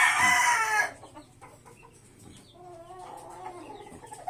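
A rooster with unusually long toes gives a loud, harsh crow near the start, then quieter fowl calls and clucks continue faintly in the background.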